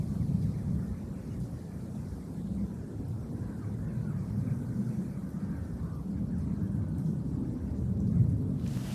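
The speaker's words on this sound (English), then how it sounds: "that wind is really not very nice" Wind blows at an outdoor fishing spot, a continuous low rumbling buffet against the microphone with gusts swelling and easing, loud and close, with no other distinct sounds.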